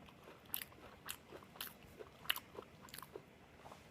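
Crunchy bites and chewing of a burnt, twice-toasted waffle, a series of close, faint crisp crunches spaced irregularly through the quiet.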